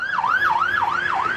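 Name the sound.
ambulance siren on a road in South Lebanon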